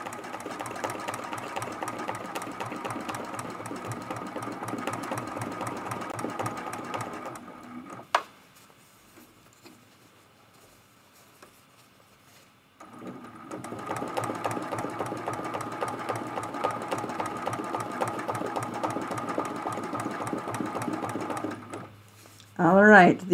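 A sewing machine quilts a lamp post art quilt in two long, steady runs of fast, even needle chatter. The runs are separated by a near-silent pause with a single sharp click, and a voice is heard briefly at the end.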